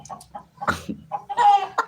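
A hen clucks in short, close bursts, a few soft clucks followed by a louder squawking cluck near the end.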